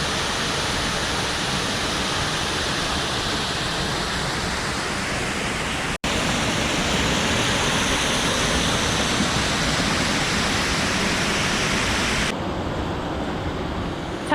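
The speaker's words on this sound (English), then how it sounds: "We made it to Murray Reynolds Falls." Murray Reynolds Falls in Ricketts Glen State Park roars as a loud, steady broadband rush of falling water, close and continuous throughout, with no talk.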